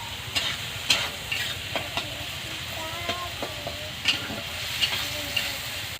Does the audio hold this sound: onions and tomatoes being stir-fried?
yes